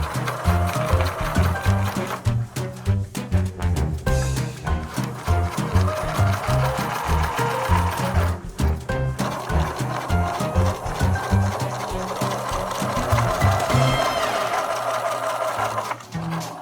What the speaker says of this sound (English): First thing I'm going to do is sew the logo onto the bench.